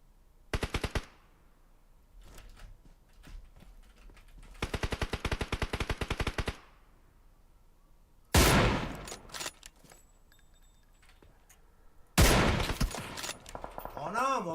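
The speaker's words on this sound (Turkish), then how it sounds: "Nereden sıkıyor ya bu çocuk?" Rapid bursts of automatic gunfire in an online shooter game, two sustained volleys early on followed by louder, sharper shots and impacts later, with brief pauses between engagements.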